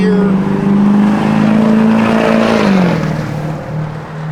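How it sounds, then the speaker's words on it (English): A 1964 Chevrolet Malibu convertible's engine rumbles loudly through Flowmaster dual exhaust, holding a steady revving drone that then drops in pitch as the throttle eases, heard close with no talk. "Again, Flowmaster dual exhaust. It's got good sound."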